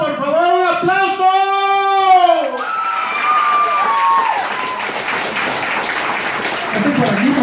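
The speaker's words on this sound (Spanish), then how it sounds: "Por favor, un aplauso." Guests at a quinceañera banquet applaud and cheer in a loud crowd wash, following a sung or called-out voice at the start that fades into continuous clapping and chatter.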